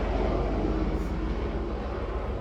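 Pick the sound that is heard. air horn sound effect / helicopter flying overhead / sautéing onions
helicopter flying overhead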